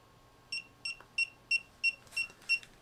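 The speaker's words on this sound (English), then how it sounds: "I'm going to hold my power button until it beeps" A series of seven short, high electronic beeps at a steady pace from a held power button on a DJI O4 FPV drone system, fairly quiet and clean against faint background hiss.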